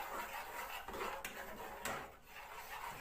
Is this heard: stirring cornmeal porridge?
yes